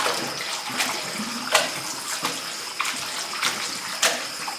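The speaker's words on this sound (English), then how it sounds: "And now I use fresh water that I let just go over it" Fresh tap water runs steadily over seitan dough being washed by hand, a close, continuous splashing stream broken by several brief louder gushes and sloshes, with no talking.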